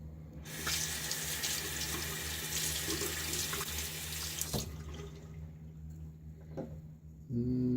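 Tap water gushes into a bathroom sink for a rinse after a shave, a loud, steady rush that stops abruptly partway through, followed by a few soft drips and handling noises.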